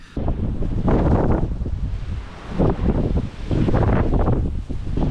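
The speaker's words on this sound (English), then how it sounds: "the caravan getting slammed around in the wind" Strong gusty wind buffets a caravan parked at a remote beach, roaring loudly and steadily close to the microphone with surging rumbling blasts throughout and no talking.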